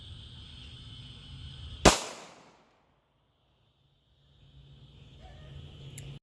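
A Taurus GX4 pistol fires a lead hand load at a target about five yards away outdoors, a single sharp, loud shot with a short decaying tail over quiet background.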